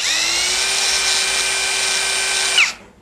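A VRILL impact driver whines steadily at a high pitch while running free, then winds down abruptly near the end, loud and close.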